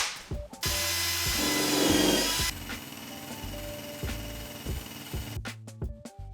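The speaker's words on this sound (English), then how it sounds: "This is going onto a drill, and I'll be able to rub off the pinstriping" A power drill spins a rubber eraser wheel against car paint to strip pinstriping off a Mazdaspeed 3, a steady whirring grind that runs nearly continuously and close by, pausing at the end before a few short bursts.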